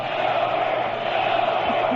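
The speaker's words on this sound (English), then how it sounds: "Listen to this crowd." A large crowd roars and cheers continuously at an event, a dense, steady wash of voices with occasional shouts rising above it.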